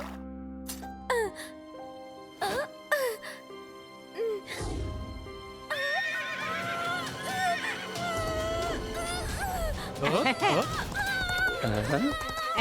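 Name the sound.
horse neighing and galloping in a cartoon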